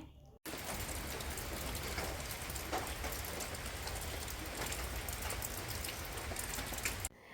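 Heavy rain pours steadily and close by, a dense, continuous hiss of drops striking surfaces that starts abruptly after a brief silence and runs unbroken to an abrupt stop near the end, with no voices.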